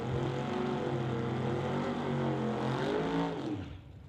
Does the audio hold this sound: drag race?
yes